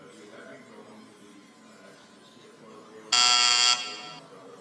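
After a few seconds of quiet room noise, a loud, harsh electronic game show buzzer sounds once for about half a second.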